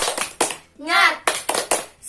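Classroom children clapping a rhythmic spirit clap, sharp group claps in quick patterned bursts close by, broken by a single voiced chant between them.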